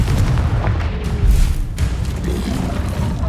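A Confringo fire spell blasting in the Hogwarts Legacy video game: a heavy, booming explosion with a deep rumbling roar that sustains and swells across the moment, loud and close, with no voices.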